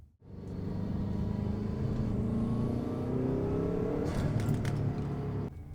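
A car engine hums and rumbles steadily as the vehicle drives along on a test drive after a brake pad change, with a smooth continuous drone and slight shifts in pitch, close by.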